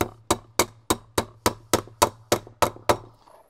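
Hammer tapping joist hanger nails into a treehouse frame, about ten sharp evenly spaced metallic taps close by.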